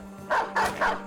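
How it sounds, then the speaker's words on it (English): Dogs in the video game Battle Brothers give four sharp, evenly spaced barks over a low steady hum, each bark loud and close, with no voices. "because there's a few dogs around here"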